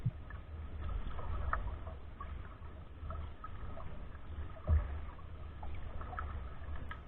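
Soft, quiet water sounds of paddles dipping and boats moving on the French Broad River, with occasional faint knocks and splashes.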